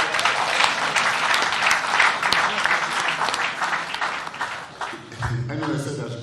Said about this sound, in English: I deserve a clap.